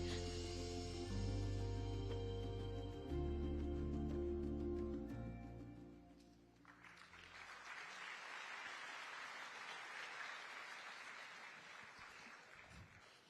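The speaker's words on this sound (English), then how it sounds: "a round of applause for Satya Nadella, CEO and Chairman of Microsoft" Audience applause for Microsoft CEO and Chairman Satya Nadella at an AI event in Kuala Lumpur, a steady broad clatter of clapping that rises in the second half after fading music and carries on to the end.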